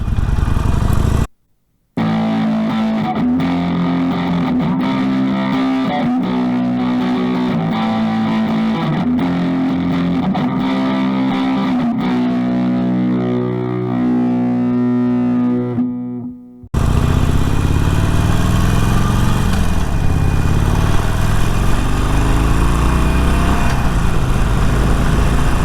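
A Harley-Davidson 48 motorcycle's engine rumbles loudly and steadily while riding, revving with a lumpy, pulsing rhythm, cutting out briefly near the start and shifting late in the ride before continuing as a rougher, wind-buffeted drone.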